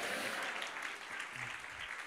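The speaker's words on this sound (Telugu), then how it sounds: "గట్టిగా గట్టిగా చప్పట్లు కొట్టాలి" A church congregation claps loudly and steadily during a Telugu sermon, a dense sustained wash of many hands from start to finish.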